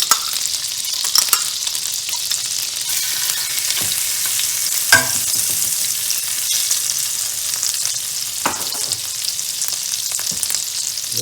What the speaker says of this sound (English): I'm gonna throw in some garlic